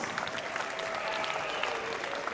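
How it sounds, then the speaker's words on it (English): A crowd applauds steadily after an M-1 Challenge mixed martial arts fight in Finland, with a broad wash of clapping from the arena and a faint tone running underneath. "Ladies and gentlemen, big round of applause."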